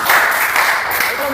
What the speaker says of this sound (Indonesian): Tepuk tangan dong, tepuk tangan ya.